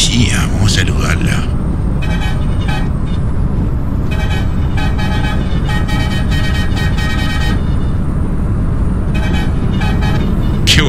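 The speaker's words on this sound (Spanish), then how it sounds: "Qué bocina que tenemos" Repeated truck horn blasts from a DAF XF in the Euro Truck Simulator 2 video game, some short and some held, sounding loud over a steady engine and road rumble.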